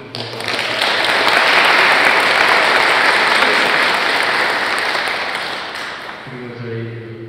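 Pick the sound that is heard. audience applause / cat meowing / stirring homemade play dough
audience applause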